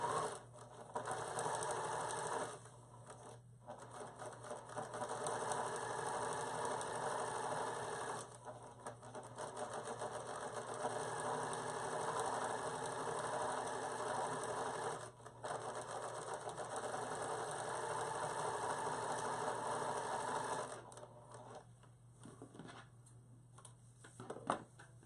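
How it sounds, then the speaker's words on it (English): Sewing machine stitching a fabric card holder along a fold, a close steady mechanical whir in long runs, briefly pausing a few times before stopping near the end. "I'm going to just stitch right where that first fold is."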